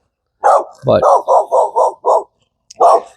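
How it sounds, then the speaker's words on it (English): A neighbor's dog barks in a hot outdoor garden, a run of six or seven loud, close barks in a quick steady rhythm, then one more after a short pause, with a brief word spoken. "That's my neighbor's dog."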